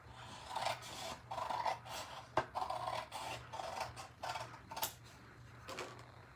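Scissors cut through an art printable up close with a run of quiet snips and paper rustles. The strokes come in irregular bursts with brief pauses between them, and no one speaks.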